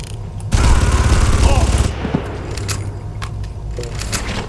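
Gunfire in the Far Cry video game erupts as a loud, dense rattling burst lasting over a second, followed by scattered sharper shots and a voice speaking.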